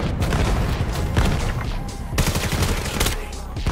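Gunfire rattles in Vail VR, a VR shooter, as loud close bursts of automatic shots pile into a dense fusillade with heavy thumps throughout.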